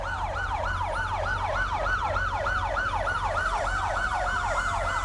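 Fire truck sirens from the Allegheny Fire Equipment Company being tested along a 1989 Oktoberfest parade route, a loud, continuous wailing siren sweeping up and down rapidly in steady cycles over a low engine rumble, with no talk.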